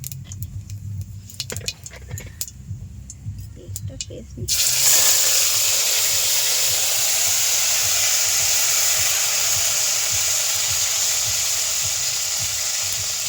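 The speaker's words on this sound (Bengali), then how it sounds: "তেলের মধ্যে দিলাম 2টো সাদা জিরে, আর আমরা আদা ও লঙ্কার একটা পেস্ট করে রেখেছিলাম, এই তেলের মধ্যে দিয়ে দেবো।" Cumin seeds and ginger-chili paste hit hot oil partway through, with quiet clinks and scraping before a loud, steady hiss that bursts in and sizzles evenly to the end.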